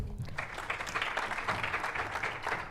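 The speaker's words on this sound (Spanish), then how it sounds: "Le damos un aplauso por su participación." Applause from a conference audience after an engineering talk on circuit-breaker mechanism faults, a soft, fairly distant patter of clapping lasting a few seconds.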